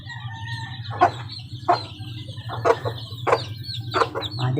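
A hen with four newly hatched chicks on a small farm, giving repeated short clucking calls at a steady pace over a low constant background hum, close by and moderately loud.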